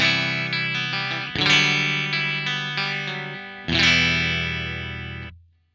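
A Stratocaster-type electric guitar with single-coil pickups plays a clean tone: two strummed chords ring out and sustain, with a few single notes picked between them before fading, close and without voices.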